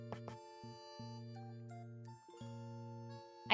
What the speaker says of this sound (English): I have a bell.